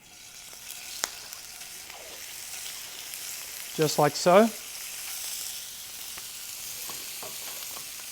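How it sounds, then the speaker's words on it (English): Chicken frying in a hot pan with a little oil for a stir fry gives a steady, close sizzle throughout, with a short stretch of talking midway. "Right at this point, all we want to do is just cook the chicken"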